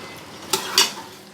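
Onions with cumin and whole red chillies frying in a pan give a faint sizzle, broken by two quick stirring scrapes in close succession.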